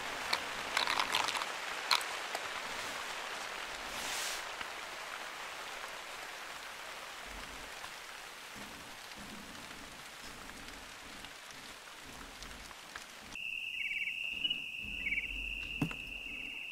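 Steady rain pattering in a hunting game at night, soft and even with faint insect chirps, joined near the end by a brief electronic tone.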